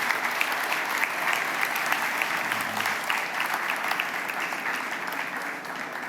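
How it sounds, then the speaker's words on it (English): Sustained audience applause fills a conference room at the close of a finance presentation, dense and steady for the full stretch, easing slightly near the end with no voices over it. "Big applause for Temba."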